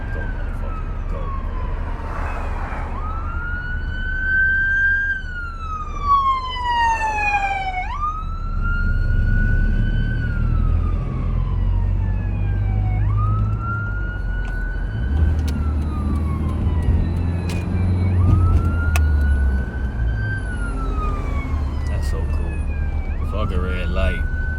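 A fire truck siren wails steadily behind a car in traffic, its rising and falling sweeps close and loud over the engine rumble, while people in the car talk.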